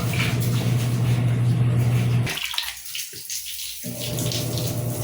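Water runs steadily from a tap for bathing a cat, a loud broadband rush that stops abruptly partway through and returns more faintly near the end.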